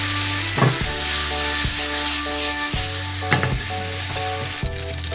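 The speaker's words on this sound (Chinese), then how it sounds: "锅烧热，直接下入肉丝儿，反复翻炒，逼出油脂" Strips of skinless pork belly sizzle loudly in a hot wok, a bright continuous frying hiss punctuated by repeated scraping strokes of a spatula as the meat is tossed; a steady hum runs underneath and no one speaks.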